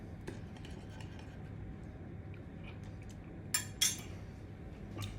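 Cutlery tosses a salad in a bowl, soft scraping and shuffling under a quiet room tone, broken by a couple of sharper metallic clinks near the end.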